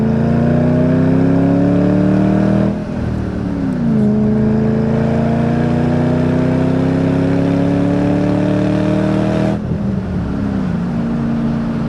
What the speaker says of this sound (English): But this Saleen supercharger has a distinct sound